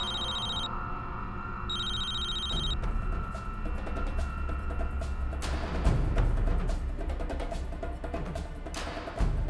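A phone rings in two short electronic bursts over a steady mechanical hum, followed by clattering and background noise.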